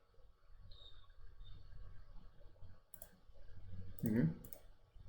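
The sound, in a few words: computer mouse clicking in ETABS software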